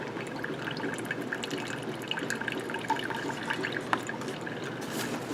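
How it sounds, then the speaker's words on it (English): Dye being poured into a glass jam jar holding aida fabric gives a continuous soft liquid trickle and gurgle, close and fairly quiet, with small splashy drips throughout. "Pour some dye in."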